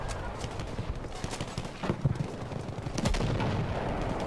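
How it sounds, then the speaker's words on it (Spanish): Cannon fire and battle noise in Battlefield V, with heavy booming shots and scattered gunfire over a dense, rumbling background, the firing growing louder near the end. "Cañón disparado, genial."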